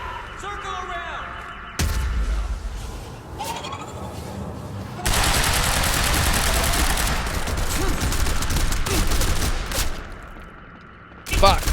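Gunfire in the shooter game Quantum Break: sustained bursts of rapid shots and loud fusillades fill most of the stretch, with voices talking over the combat.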